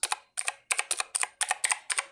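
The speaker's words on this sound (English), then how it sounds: "They sound really great, and they feel great to type on, and you get that satisfying click with them." A mechanical keyboard with Kailh blue switches is typed on in quick bursts of sharp, clicky keystrokes separated by short pauses, close and clear with no talking.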